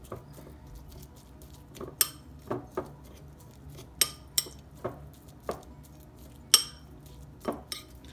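Minced keema marinade with spices is mixed in a bowl, with a spoon scraping and clinking against the sides in irregular light taps and knocks, close and fairly quiet.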